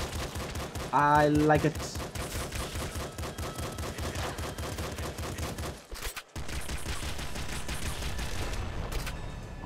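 Rapid retro shotgun blasts from the video game Nuclear Throne Ultra Mod come in dense, punchy volleys with a brief musical chime, continuing over game music while someone speaks briefly.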